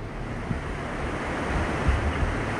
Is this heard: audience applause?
no